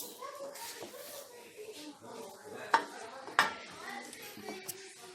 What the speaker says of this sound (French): je vais commencer à mettre le riz